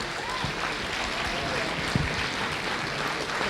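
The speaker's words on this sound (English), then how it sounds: "I think the lads deserve a big round of applause and show of appreciation." Awards night crowd at Kerins O'Rahillys applauding the team: a continuous wash of clapping from a roomful of people, even in level and moderately loud from start to finish.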